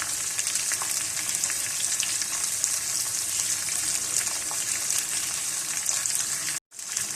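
Chopped tomatoes and green chillies sizzling in an oil-filled pan for a Spanish omelette, a dense, steady frying hiss with small crackles, close and loud, briefly cutting out near the end.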